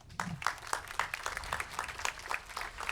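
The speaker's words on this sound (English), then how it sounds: "give Elmer a round of applause as well" Applause from a crowd at an outdoor Memorial Day parade ceremony, scattered hand claps at a moderate distance, fairly quiet and uneven, with no talk over them.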